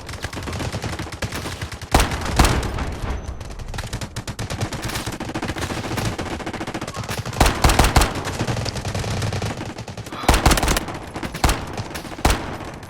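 Rapid automatic gunfire in the mobile shooter game Delta Force Mobile, dense bursts of loud shots with sharper single blasts punctuating a continuous rattle, layered over game effects without talk.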